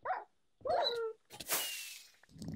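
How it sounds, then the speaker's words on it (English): A dog in a Hunger Games video game gives a few short, close yelps and barks, separated by brief pauses and a burst of noisy in-game sound. "Here comes a dog."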